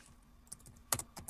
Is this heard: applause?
no